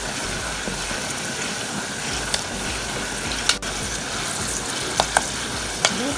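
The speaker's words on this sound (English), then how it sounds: "Keep stirring as you monitor carefully as they turn slightly golden brown" Soya chunks fry in a pan with a steady, loud, close sizzle, broken by a few sharp clicks and scrapes as they are stirred.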